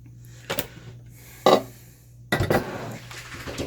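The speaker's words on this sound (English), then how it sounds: "I'm going to give this a stir." Spoon stirring pasta sauce with garlic in a crockpot for a four-cheese rigatoni bake, giving a few scraping clinks against the pot in separate bursts over a steady low hum.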